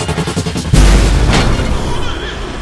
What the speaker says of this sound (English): Let's try the Logic Bomb.